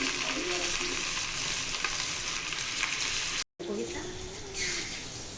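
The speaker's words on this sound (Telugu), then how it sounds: "పెంక పెట్టి ఆయిల్ అయితే పోసిన ఫిష్ అయితే వేసుకున్నాయి చూడండి" Masala-coated fish sizzling in hot oil in a pan, a loud continuous crackling fry with a brief dropout midway, under a voice speaking.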